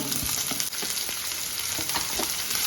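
Chopped onions frying in hot oil for an ivy gourd stir-fry, a dense crackling sizzle close up with soft scraping and spoon taps as they are stirred, no voices.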